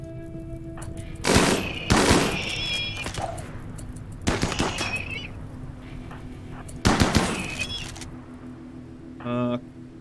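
Gunfire from a sniping attack on a centipede in the video game RimWorld: several loud, separate bursts of shots come at irregular intervals over a steady low hum, with a short beeping tone near the end.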